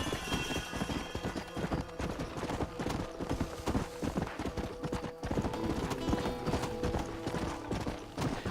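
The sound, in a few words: horse hooves in Red Dead Redemption video game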